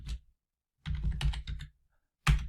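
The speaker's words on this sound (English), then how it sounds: "So here you have to type the name again." Fingers type on a computer keyboard while entering a name in a beginner Python input program, in two bursts of close, quick clicks separated by a pause, with a final short flurry of keystrokes.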